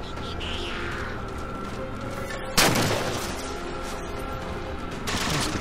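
Gunshots fired by the player in Halo 4, a sharp loud burst with a ringing tail, set over a steady bed of game noise and a later swell of combat sound.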